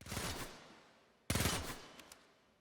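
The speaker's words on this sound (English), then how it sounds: "you will instead fire 4 bolts in a rapid succession" The Ballistica crossbow in Warframe firing uncharged bolts, two loud bursts of quick rattling shots, each ringing out and decaying, with a couple of faint clicks near the end.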